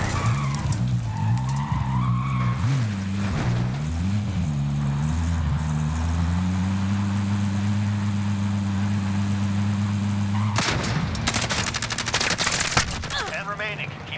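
A car in Call of Duty: Warzone roars with a droning engine that shifts pitch, then skids and screeches loudly among bursts of gunfire near the end, with brief voices over the action.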